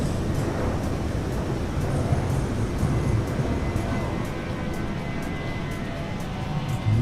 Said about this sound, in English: You guys hear the change in the engines?